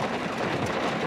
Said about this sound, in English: At least this train is moving pretty fast.